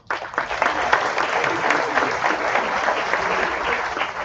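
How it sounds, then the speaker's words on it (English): Gala audience in a hall gives a round of applause to the catering staff, loud and close, a full dense clatter of many hands starting abruptly and continuing steadily. "give another hand or a round of applause to Yukno Catering and their staff"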